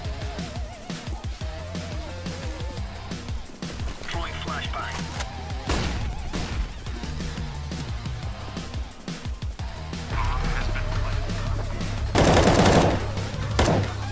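Rapid video game gunfire with bursts of automatic fire and single shots during a 2v2 match, loud and continuous across the clip, with players talking excitedly over it.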